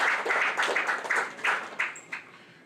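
Brief audience applause at a book launch and dinner, a scattered burst of hand claps that thins out within a few seconds, fairly close and without talk.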